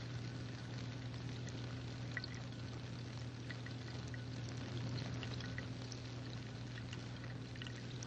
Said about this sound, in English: the bubbling is the result not of a physical change in the water, but of a chemical change